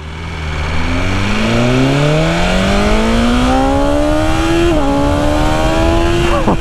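A 2020 BMW S1000RR M superbike revs hard and accelerates, its loud engine whine climbing steadily in pitch through the gears with a brief shift dip, close and unbroken.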